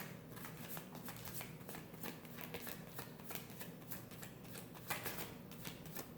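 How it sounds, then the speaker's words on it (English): Tarot cards are shuffled and drawn from a deck in a quiet room, giving rapid close riffling flicks in a steady crackling run. "We're going to grab one more card."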